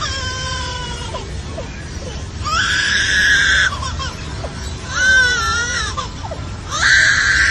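A lyrebird mimicking a crying baby in loud, wailing bursts that rise and fall, repeated three times at close range over a low background rumble.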